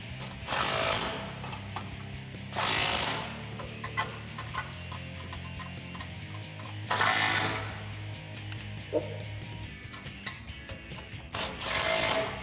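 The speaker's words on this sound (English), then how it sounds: "Grab your 16 socket and your wrench and tighten them down." A ratchet wrench with a 16 mm socket tightens bolts on a front bumper bracket of a 2013-2018 RAM 1500, with several bursts of quick clicking separated by quieter pauses, close and without speech.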